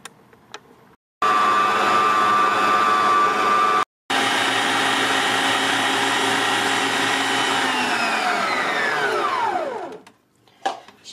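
An electric mixer whirs loudly mixing cream with powdered sugar in two long bursts separated by a brief pause, its motor pitch sliding down as it switches off.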